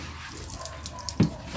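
Water pours and splashes briefly while a pig is bathed on a farm, a soft running trickle with one sharper splash near the end.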